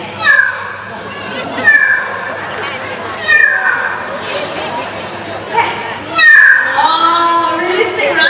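A man imitates a fierce cat with a series of snarling, yowling calls at a bird show at Singapore's Mandai Bird Paradise. The cries come in loud bursts between pauses, and crowd chatter runs beneath them.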